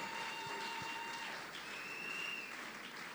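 A church congregation at a worship service applauding together, a dense, steady wash of clapping that carries on without a break, with faint sustained tones in the background.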